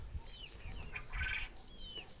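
Several young quails give short, high chirping calls, repeated at intervals over a low background rumble, fairly close by.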